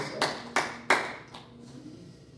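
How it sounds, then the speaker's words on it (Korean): A congregation at a Wednesday evening Korean church worship service claps three times in slow, distinct, fairly loud bursts, then fades into quiet room tone. "우리 하나님께 영광의 박수를 올려드리겠습니다"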